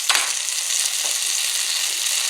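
Minced garlic hits a hot pan while cooking Chinese kung pao chicken, giving a steady, close, bright sizzle that holds even throughout with a sharp onset at the start.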